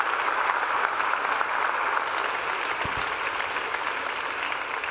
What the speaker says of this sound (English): a round of applause for our three panelists for an excellent conversation